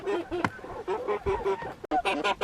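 Young pullets settling onto roosting bars in a greenhouse coop at dusk, giving a steady run of close, overlapping chirps and short trilling calls with no pauses.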